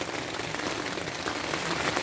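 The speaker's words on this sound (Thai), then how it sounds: "ฝนตกตลอดคืนครับ" Steady rain falls at night in Doi Soi Malai National Park in Thailand, a dense continuous patter on surfaces nearby, even and fairly loud with no voices.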